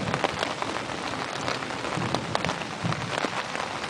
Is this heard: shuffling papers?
no